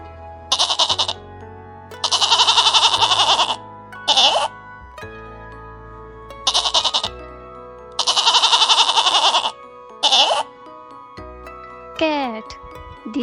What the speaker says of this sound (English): Goat. This is goat.